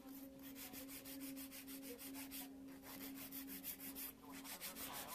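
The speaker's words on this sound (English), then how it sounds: "take your 100 grit file and shape the circles until you have them perfectly how you want them" A 100 grit file shapes fingernails during a nail art manicure, giving a steady run of quick, close scratchy back-and-forth strokes that continue without pause under a faint constant hum.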